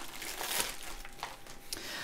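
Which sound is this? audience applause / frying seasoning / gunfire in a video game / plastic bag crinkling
plastic bag crinkling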